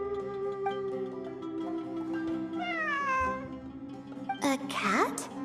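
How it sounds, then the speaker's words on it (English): A cat meows repeatedly in a video game, its drawn-out, rising and falling cries heard close over a steady background hum, with a sharper burst of sound near the end. "It really is a cat."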